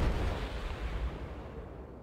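Naval gunfire in World of Warships, a Kirov cruiser shooting at a destroyer on the Ocean map, lands as a single muffled boom that fades into a rumbling tail, somewhat distant and subdued.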